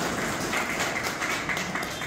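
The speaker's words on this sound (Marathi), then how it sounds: "टाळ्या वाजवू" An audience applauds to welcome a newly elected district treasurer at a meeting: steady, fairly loud clapping from many hands with no clear talk over it.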